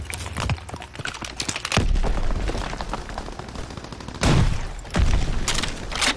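In the Call of Duty: WWII beta, loud booming missile launches and blasts punch through constant heavy battlefield gunfire, with several big hits standing out.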